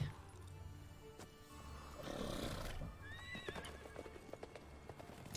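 A horse in The Witcher 3, an old but dependable mare, clops its hooves in a steady rhythm with a couple of rising whinnies partway through, close up over faint game ambience.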